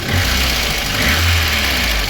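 A VAZ 21099 car's noisy engine runs steadily close by, with a continuous rattling of pistons under a constant loud drone, no talk.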